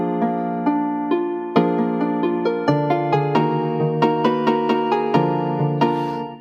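Bass notes have the start of each note cut off and are played in a steady rhythm inside a layered harmonic music mix, clear and close, with no voices.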